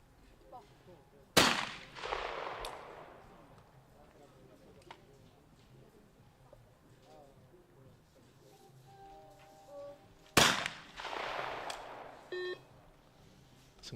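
Two sharp shotgun blasts ring out at a women's trap shooting final, the first near 1.5 seconds and the second near 10.5 seconds, each loud and decaying fast, with quiet crowd ambience and faint beeps between them.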